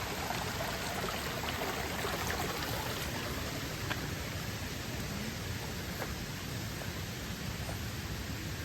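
A small water channel flows along a forest trail, giving a steady, even hiss of running water from start to end.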